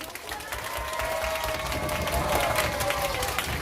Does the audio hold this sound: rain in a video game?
no